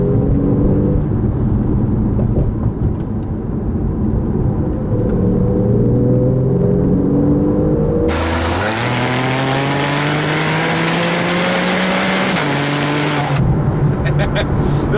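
A 2012 Porsche 911 Carrera S engine accelerates hard, its loud rising drone climbing through the gears with a shift midway, heard from inside the car with someone talking over the engine.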